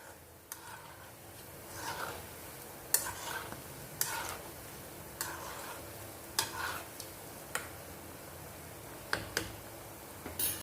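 Potato and semolina snacks frying in a pan and being stirred, a faint steady sizzle broken by light scraping taps and clicks of the utensil at irregular intervals.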